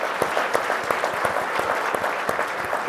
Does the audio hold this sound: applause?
yes